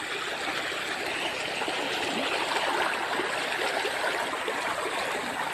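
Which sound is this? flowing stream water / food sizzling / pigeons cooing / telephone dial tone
flowing stream water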